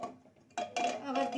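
A metal lid is set onto a cake pan on a gas stove during eggless stovetop cake baking, making a couple of close clanking and rattling knocks in quick succession.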